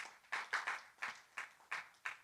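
A few hands at a Spanish-language Sunday church service clap in a slow, uneven rhythm, about seven soft distinct claps, quiet and close with no talking.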